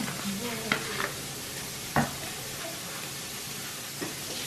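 Alligator jambalaya sizzles hot in a pot after Worcestershire and soy sauce go in, a constant close frying hiss broken by a few sharp scrapes and clinks of stirring.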